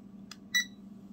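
A timer beeps as a seven-minute reading timer starts, two quick faint electronic chirps with the second slightly louder, over a low background hum.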